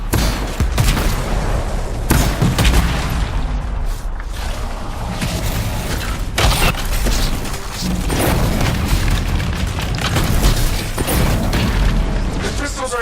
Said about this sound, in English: The crystals are exploding.